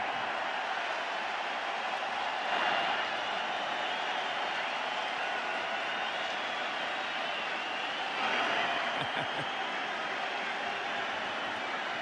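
A stadium crowd of nearly 60,000 baseball fans at a Yankees–Red Sox game in London keeps up a steady, dense roar, swelling briefly in a couple of places.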